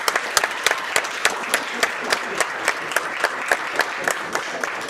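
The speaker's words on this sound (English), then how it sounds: "Give yourselves a round of applause as players for participating." Players and spectators at a 9-ball pool ranking event in a Northern Virginia sports bar give a steady round of applause, dense clapping with a few sharper individual claps standing out, fairly close and continuous throughout.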